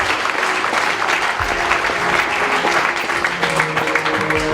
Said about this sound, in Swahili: Kama makofi.